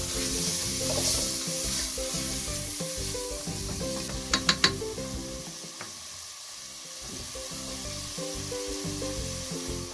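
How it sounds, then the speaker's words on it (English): Tomatoes sizzle and fry in a pot for beef pilau, a steady dense crackle with a few brief sharp clinks of a utensil against the pot midway. "So next I'm going to add in my tomatoes."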